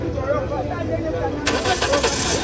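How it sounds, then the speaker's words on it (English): A 2003 Toyota Yaris in mint condition cranks and catches near the end, its engine start rising loud and close over ongoing talk and background noise. "now let's start the engine!"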